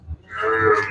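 A first- or second-calf dairy buffalo for sale moos nearby: one loud, drawn-out bellow that swells after a faint thump and holds to the end.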